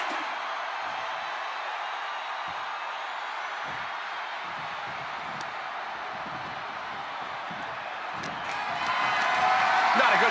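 A capacity arena crowd in the WWE 2K25 wrestling video game roars as a continuous wash of noise, moderately quiet at first, then swelling louder near the end.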